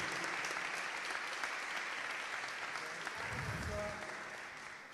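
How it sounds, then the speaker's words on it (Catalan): Sustained applause from a large audience, a dense even wash of clapping that fades slightly at the close. "Un fort aplaudiment."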